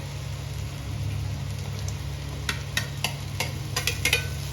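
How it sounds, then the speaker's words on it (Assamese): Paneer gravy with added water simmers in a pan, giving a steady close hiss and faint sizzle under a constant low hum, with a few brief clicks and clatters toward the end. "এতিয়া ইয়াত আমি পানী দি পনীৰখিনি দি অকণমান উতলিবলৈ দিম।"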